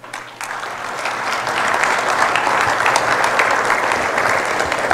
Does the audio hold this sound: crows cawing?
no